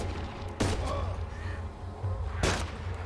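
Gunfire in DayZ, nearly a full magazine emptied: two loud bursts of rapid shots over steady background rumble, each burst sharp and close, separated by a couple of seconds.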